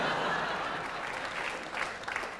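A theatre audience at a German cabaret show claps steadily in a dense, sustained burst of applause that fades slightly toward the end, with no voices over it.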